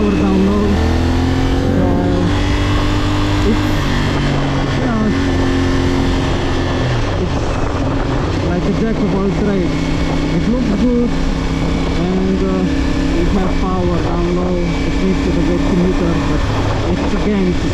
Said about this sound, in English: it's a 2-cylinder, so it's not a screamer. You have power down low.